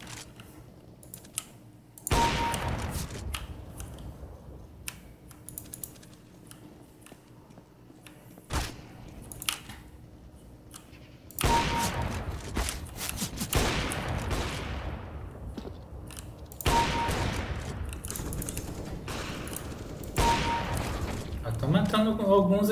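Sniper rifle shots in Counter-Strike: Global Offensive ring out as a few loud, sharp cracks with long decaying echoes, spaced seconds apart over rapid keyboard clatter and other game noise.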